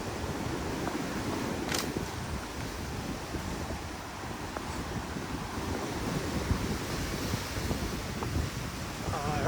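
Small surf breaks on a little sandy beach on Koh Lipe, a steady wash of waves with wind buffeting the microphone throughout, no talk.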